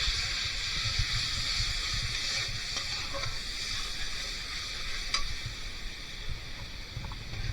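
Mustard paste, prawns and split green chilies frying in a pan: a steady, close sizzle hisses throughout, with faint stirring scrapes and a few soft clicks, no talking.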